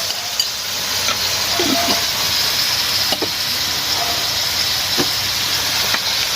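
Pork and kale sizzle in a hot pan as they are stir-fried with seasoning powder, sugar and fish sauce, a steady close hiss broken by a few scraping stirs and light clinks.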